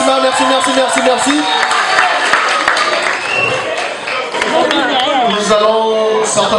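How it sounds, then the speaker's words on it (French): Guests at a Paris wedding clapping and cheering, loud sustained applause mixed with shouts and crowd chatter, while an announcer's voice and music sound over the noise. "Merci, merci, merci de l'applaudissement."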